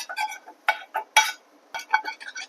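A kadai pan is put into a kitchen sink after cooking, with a string of close, sharp metallic clanks and clinks in irregular bursts separated by brief silences.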